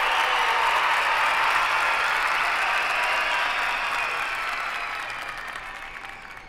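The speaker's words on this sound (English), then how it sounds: "I've got a applause track" A canned applause sound effect plays: dense, steady crowd clapping and cheering that holds loud and even, then gradually fades toward the end, with no voices over it.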